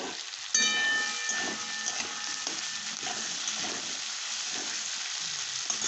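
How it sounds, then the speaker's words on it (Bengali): Onions for hariyali aloo dum fry in a pan with a loud, continuous hiss of sizzling oil that starts abruptly and holds steady, with faint stirring scrapes underneath and no talking. "একটু ভালো করে ভাজবো।"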